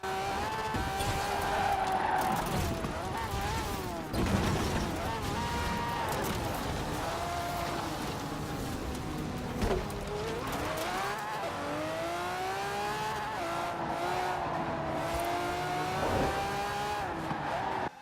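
A sports car engine in a video game roars at high revs, pitch climbing and dropping through gear shifts, with tires squealing and skidding throughout.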